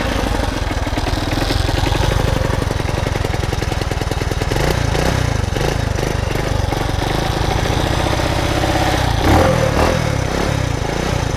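A Honda S90 motorcycle engine runs right after a kick start, putting out a loud, close, steady single-cylinder chug with a slight waver in the idle and no talk over it.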